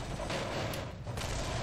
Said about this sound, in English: gunfire going in for that missile